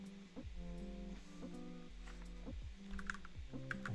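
Computer keyboard typing in a quiet room, a steady run of close, soft key clicks with a few louder taps near the end, sitting over a low, sustained background hum with no talking.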